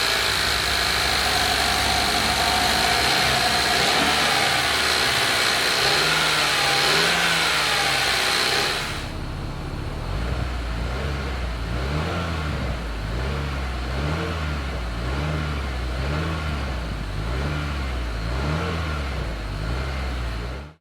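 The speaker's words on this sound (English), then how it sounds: "Here's the sound of it." A 2023 Acura RDX's turbocharged 2.0-litre four-cylinder runs loud and close, first a steady roar, then settling into a lower idle broken by repeated rhythmic revs that rise and fall.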